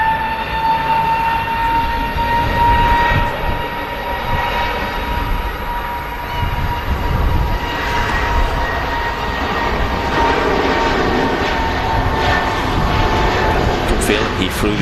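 An Emirates Airbus A380 arriving at Manchester Airport produces a loud, sustained jet engine roar with a droning whine that rises and falls across the clip, heard from a nearby spotting position, with no clear speech.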